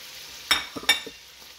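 Shrimp slid into a hot pan for shrimp scampi pasta, a steady close sizzle broken by two sharp bursts and a few soft clatters as they land.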